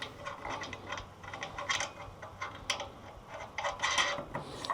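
A bolt is fed through a steel bracket on a Wolfe Ridge high-output log splitter, with faint metallic clicks and light ratcheting taps in small irregular bursts, close by and without talk.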